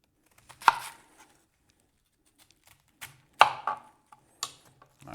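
A knife cuts the stalk out of a cabbage on a cutting board: a few sharp, separate chopping thuds with short pauses between them, close and fairly quiet, with no talking.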